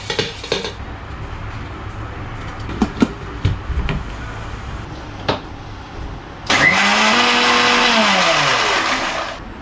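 Mixer grinder grinding cut coconut and soaked rice roars on loudly for the last few seconds, its motor pitch sliding as it runs, after scattered clinks and knocks of kitchen utensils.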